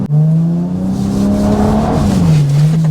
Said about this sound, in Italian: Sgoma subito